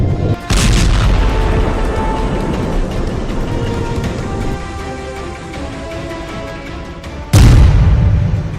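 Explosions in Tartus, Syria: a sharp booming blast opens into a long rolling rumble that slowly fades, then a second loud detonation strikes near the end, no speech present.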